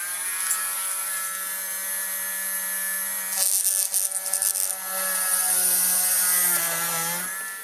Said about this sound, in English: So let's get one hole drilled as an index.